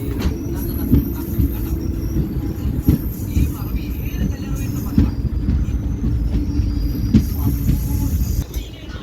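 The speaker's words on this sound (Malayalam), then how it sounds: "ലക്കടിയിൽ നിന്ന് നമ്മൾ വീണ്ടും ട്രെയിൻ പുറപ്പെട്ടു" Passenger train pulling away from Lakkidi station near Palakkad, with a steady low rumble, rhythmic wheel clatter and occasional squeals heard from on board, and voices talking over it.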